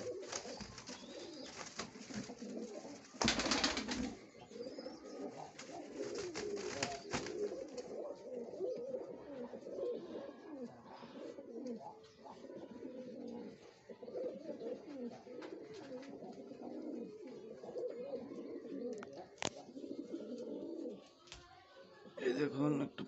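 Pigeons fighting over a nest box, with repeated cooing and scuffling wing flaps and bumps, close by, while a person talks over much of it.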